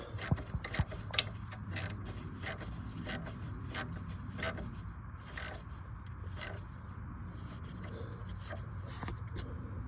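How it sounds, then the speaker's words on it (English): A ratchet tightening the nut on the power wire of a 2004 Ford Focus 2.0L alternator, giving sharp intermittent clicks in short bursts over a low steady hum, close and fairly quiet. "Tighten the nut down on the power wire"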